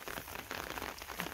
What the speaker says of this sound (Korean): 비가 좀 제법 많이 오는데 빗소리도 좀 듣기 좋고 기분 좋습니다.